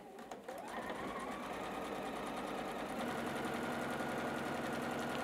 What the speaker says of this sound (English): we're just going to sew on both sides of this again